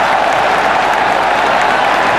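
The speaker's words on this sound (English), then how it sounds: "you'll hear the singles and the runs cheered by this crowd." Large crowd at a cricket stadium during an India vs Bangladesh one-day World Cup match, a steady dense roar of cheering and clapping that fills the whole stretch without a break.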